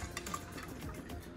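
Hot wings being stirred through hot sauce in a bowl, giving a soft, steady wet scraping and sloshing, close and fairly quiet with no talk.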